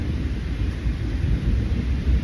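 Thunder rumbles low and continuous from a distance up north before a rainstorm reaches a forest, a steady deep roll filling the whole stretch with no voices.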